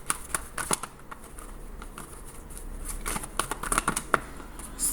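Tarot cards being shuffled by hand, giving quick crisp riffling and tapping bursts in an irregular rhythm, close and fairly quiet, with no talking.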